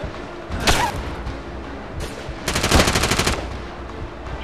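Automatic gunfire in the SOCOM U.S. Navy SEALs Combined Assault: Reprisal video game, with two rapid bursts of shots, a short one followed by a longer rattling volley, loud and close over a steady background bed.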